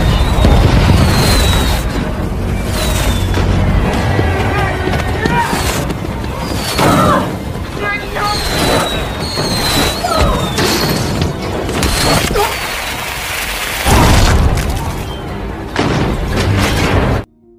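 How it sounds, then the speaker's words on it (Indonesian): Assault rifle gunfire in a battle scene from The Walking Dead, loud sustained bursts of shots and crashing impacts over a dense roar, with brief voices. "Leah pun mulai melepaskan tembakan senjata peluru serbu"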